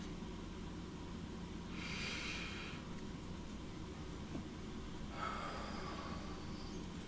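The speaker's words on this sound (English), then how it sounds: "And another deep breath" Two slow, soft, airy breaths drawn deeply, a few seconds apart, close and faint over a low steady background hum.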